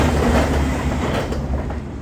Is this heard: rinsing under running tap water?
no